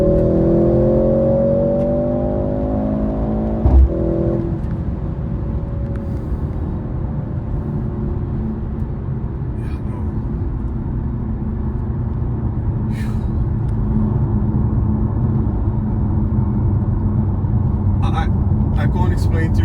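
A Mercedes-Benz C63s E-Performance hybrid accelerates hard, its engine note climbing through gears with a sharp shift near the start, then a steady loud drone of speed and road noise under a voice talking.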